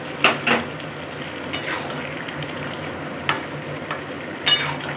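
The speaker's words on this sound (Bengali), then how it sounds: "এখন আমি এটা লাউয়ের মধ্যে দিয়ে দিচ্ছি।" Steamed peas being added to bottle gourd in a wok and stirred, with a low continuous sizzle under several sharp clinks of a spatula against the metal pan, close and alone.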